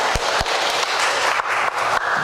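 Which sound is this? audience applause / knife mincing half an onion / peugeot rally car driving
audience applause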